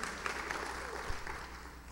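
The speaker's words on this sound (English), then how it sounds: "give the Lord a hand clap of praise" Church congregation clapping hands in praise, a dense sustained round of applause from a roomful of people with scattered voices mixed in.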